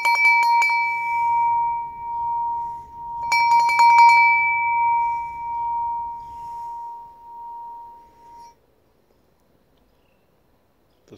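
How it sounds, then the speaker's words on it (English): An orange bell made from a small oxygen cylinder is struck in two quick clusters of hits, each leaving a bright, pure ringing tone that sustains for several seconds before fading to silence. "The orange bell."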